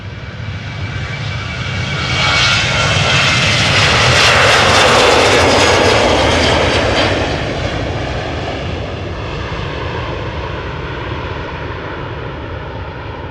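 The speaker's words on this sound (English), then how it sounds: "This is Transavia going to Olbia, flight 6915, 737-800." A Transavia Boeing 737-800 on flight 6915 to Olbia passes at Amsterdam Schiphol, its jet roar swelling to a loud peak midway and then fading with a lingering rumble; no talking is heard.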